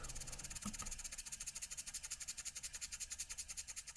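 A small off-grid steam engine drives a generator at full speed, making a quiet, steady, rapid chuffing pulse with a faint mechanical rattle and hiss underneath.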